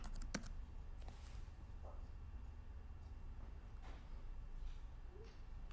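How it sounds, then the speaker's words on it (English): Faint keystrokes on a computer keyboard while a chat message is typed, with sparse, scattered clicks over a low steady background hum. "I can type a message to her"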